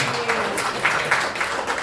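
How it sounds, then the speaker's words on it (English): A crowd applauding, a steady wash of clapping with a few louder bursts, fairly close and continuous throughout. "give them a big round of applause"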